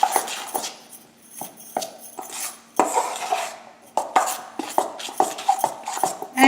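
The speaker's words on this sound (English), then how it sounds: "Let's mix a little bit more." Spinach chickpea pakora batter being mixed in a bowl with a utensil, giving repeated clinks and scrapes against the bowl in an uneven rhythm, close and clear with no talk.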